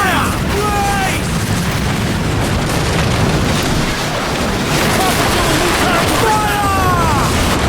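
Ship cannon broadsides in Assassin's Creed Black Flag during a naval battle, a loud continuous wall of booming fire and rumble with crew shouts over it.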